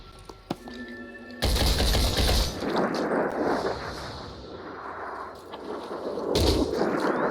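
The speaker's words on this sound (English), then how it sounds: "Opening fire. Oh, we're gonna have so much fun headshotting you all over the place." Sniper fire in the Phoenix Point video game booms out in heavy, loud cracks, a first blast followed by rumbling echoes and a second shot near the end, with no talking.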